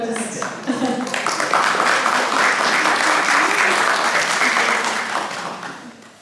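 An audience at an Ayurveda conference in Hellerup, Denmark breaks into applause that swells quickly and holds steady, then fades toward the end; a voice speaks briefly at the start.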